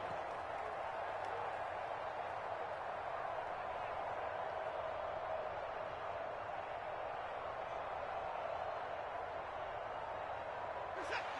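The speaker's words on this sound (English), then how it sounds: "the crowd getting into it as we come up on a big 3rd down" A stadium crowd in the football video game Madden 23 roars steadily and evenly at a distance, a continuous wash of cheering with no clear peaks, and no talk over it.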